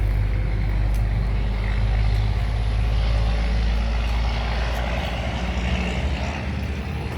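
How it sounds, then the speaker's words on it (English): Truck passing on a nearby highway outside a house in Monroe, Louisiana, a continuous loud low rumble and road roar that holds steady and eases slightly toward the end, with no talking. "So you can hear that truck."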